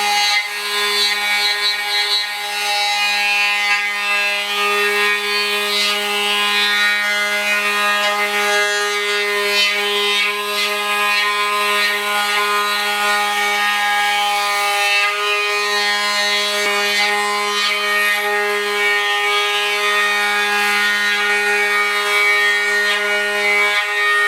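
Oscillating multi-tool fitted with a modified blade and Velcro-backed 320-grit sandpaper, running close and steady with a dense, even high buzz and strong tonal hum, sanding wood continuously without pause.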